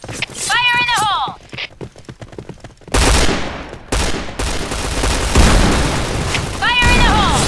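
Grenade blasts and bursts of gunfire in the shooter game Point Blank, loud booming explosions and rattling volleys close up, with game voice lines and a voice over parts of it.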